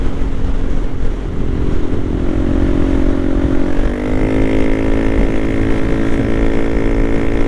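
A Honda Navi motorcycle rides by near the Washougal River, its engine a steady, loud drone that climbs in pitch partway through as it passes close.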